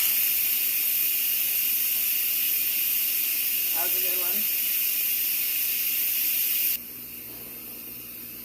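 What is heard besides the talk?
Instant Pot quick release steam venting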